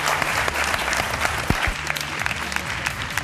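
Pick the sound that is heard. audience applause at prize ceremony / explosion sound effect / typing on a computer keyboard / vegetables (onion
audience applause at prize ceremony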